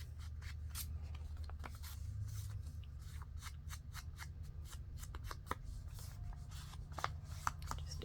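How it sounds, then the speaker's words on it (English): Ink is rubbed along the white edges of paper in a papercraft pocket project, making soft, quick, repeated brushing and dabbing strokes close up in a quiet room. "Just ink along that edge a little bit."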